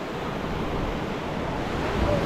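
Waves at a beach during a winter polar plunge event, a steady broad wash of surf mixed with wind rumble on the microphone, constant and fairly loud with no clear individual breakers.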